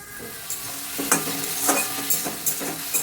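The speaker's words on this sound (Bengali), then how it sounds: "দেখো এই কচু আর মশলা আমি একসঙ্গে সুন্দর করে কষিয়ে নিচ্ছি" Taro and spices being sautéed together in a pan with a splash of water, a continuous close sizzle with repeated spoon scrapes and stirring clatter at an irregular pace, no voices.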